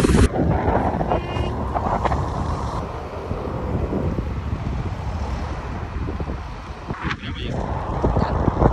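Strong wind roars and buffets the microphone while riding in a moving vehicle, a steady loud rush with low rumble that dips slightly midway and surges again near the end.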